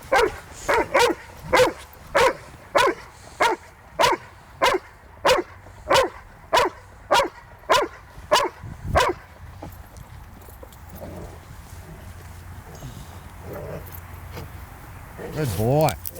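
A young Rottweiler barks in a steady run of about fifteen loud, evenly spaced barks during protection training. The barking then stops, leaving quieter background noise and a brief vocal sound at the end.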